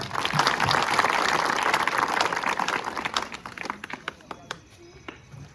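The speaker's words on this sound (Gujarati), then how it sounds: "એકવાર આપણે તમારા અમારા માટે બધા માટે જોરદાર તાળીઓ પાડી દીધી" A crowd at a village political rally for a taluka panchayat election claps loudly for about three seconds, then the applause thins into scattered individual claps as talk resumes.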